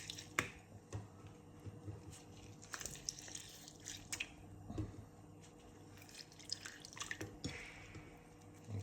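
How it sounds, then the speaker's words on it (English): Lemon is squeezed into salted water being prepared to marinate chicken for yassa, heard as close, quiet drips, splashes and squishy squeezes scattered irregularly across the passage. "And now add some lemon as well to the water."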